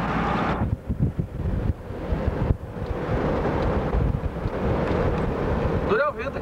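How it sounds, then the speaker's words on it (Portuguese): Wind roaring inside a moving pickup truck cab, a loud continuous rush with buffeting gusts throughout, and people talking over it. "Dura o vento aqui dentro da caminhonete."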